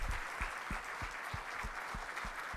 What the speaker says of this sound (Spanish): un merecido aplauso para ellos